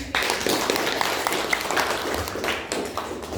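Students clapping together in a classroom, a burst of close, fairly loud applause with some sharper individual claps standing out over the brief stretch.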